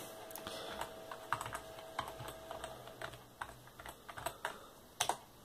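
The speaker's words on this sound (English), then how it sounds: "Type in a password." Someone types a password on a computer keyboard in short bursts of quiet, close key clicks, with a slightly louder keystroke near the end and no talking.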